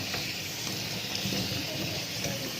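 A pot of tilapia sinigang boiling, giving a steady close hiss and bubbling like sizzling, continuous and fairly loud with no talk.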